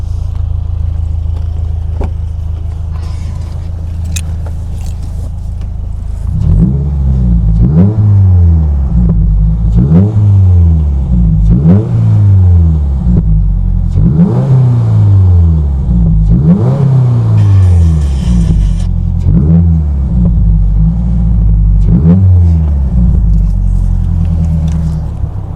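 A Subaru WRX VB engine revs about eight times in a row after a quiet idle, each loud sweep climbing and falling back in a steady rhythm, close and unaccompanied by talk.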